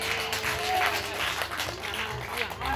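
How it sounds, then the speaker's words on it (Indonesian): Audience applause at a magic show performed during a village wedding celebration, a steady wash of clapping from a crowd lasting a few seconds with some voices mixed in. "Tepuk tangan."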